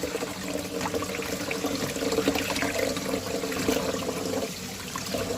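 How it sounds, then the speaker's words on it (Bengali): Salted mola fish are washed in water in a basket, with steady close sloshing and trickling throughout, without pause and with no talk. "এরকম ঝাঁকাতে করে এই যে এইভাবে ধুয়ে নেব যেন মাছটা গলে না যায়"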